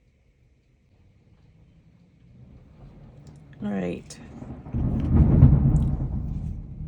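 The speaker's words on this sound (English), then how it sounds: "I don't know if you hear that, but it is thundering and lightning here" Thunder rumbles during a Florida thunderstorm, a low rolling boom that swells in the second half and stays fairly distant, with a person speaking briefly over it.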